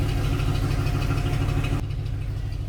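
A Chevy 1500 van engine idles steadily after a spark plug change, a continuous low rumble close by, with the broadband noise dropping off sharply near the end while the engine keeps running.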